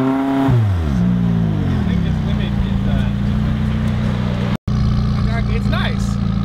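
A Toyota Prius engine revs up, its pitch climbing and falling in a loud surge, then settles into a steady drone. People talk over it, and there is a brief dropout near the end.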